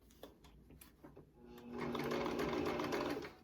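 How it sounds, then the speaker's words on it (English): A sewing machine stitches the elastic corners of a fabric face mask, starting with a few clicks and short bursts before settling into a steady, close whirring run, with no talking. "So you need to sew just right here."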